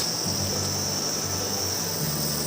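Steady, continuous cricket chirring fills a forest near Kolakham, Kalimpong, at half past seven in the morning, a bright, even drone held throughout under faint low background rumble.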